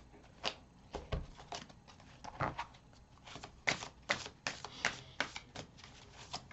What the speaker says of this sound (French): On va tirer une carte pour toi